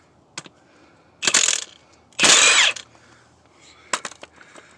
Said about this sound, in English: Always use a 6-point socket when you're doing stuff like that